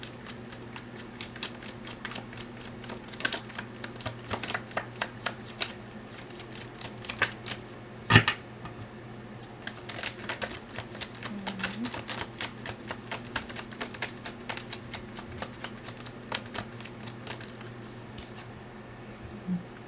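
Tarot cards are handled and drawn, a steady stream of light close flicks, taps and soft shuffling snaps that continues throughout, with one sharper knock midway and no talking.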